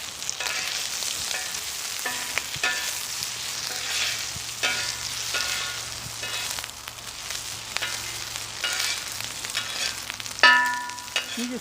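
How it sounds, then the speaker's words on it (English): Bacon sizzles and crackles steadily on a hot flat top grill outdoors, a constant hissing fry with soft scrapes and taps now and then, close and moderately loud, with no talking. "just cook the bacon until you get to the crispiness that you want"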